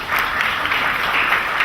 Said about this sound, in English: So I want you all to please join me in giving a big hand of applause to Mr. Luis Vasquez, the 2011 Gala Chairman.